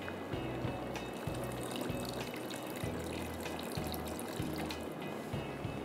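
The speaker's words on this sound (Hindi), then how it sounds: "आधा कप पानी डाल के इसको हम पकने के लिए छोड़ेंगे" Half a cup of water is poured into marinated chicken in a dry wok, making a steady, continuous splashing and hissing with a low pulsing rumble underneath, and no one talks.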